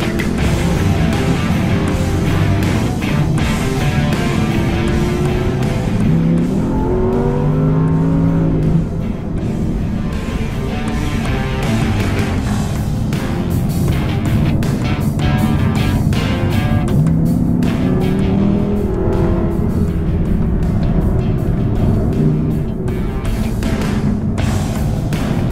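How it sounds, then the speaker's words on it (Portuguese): An Audi R8 Coupé V10 Plus engine roars loudly while driving, rising and falling through several revving pulls and gear changes, close and continuous with no talk. "A ideia mesmo é passar a sensação do que é dirigir o R8."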